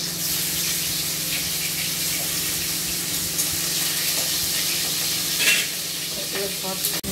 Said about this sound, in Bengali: এই মাছগুলো এখন ভাজতে দিচ্ছি।